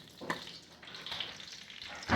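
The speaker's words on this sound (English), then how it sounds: "I got the butter sizzling" Butter sizzles and crackles steadily in a pan, a quiet, continuous hiss with a few brighter pops near the start and end.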